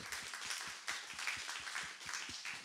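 A small audience claps steadily and fairly faintly for a poet at the close of a conversation event, a continuous patter of hands with no voices over it.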